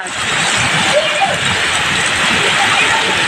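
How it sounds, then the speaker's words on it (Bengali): Steady, dense hiss of heavy rain fills the whole stretch, fairly loud and close, while people talk over it. "দেখো কি বৃষ্টি নামছে আল্লাহ"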